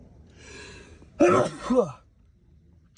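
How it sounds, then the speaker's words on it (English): A single close, loud sneeze from one person indoors, a soft breathy intake followed by an abrupt voiced burst and brief tail, then quiet. "Sneezes."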